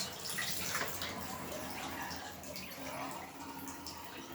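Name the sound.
excess fabric dye liquid tipped out and draining away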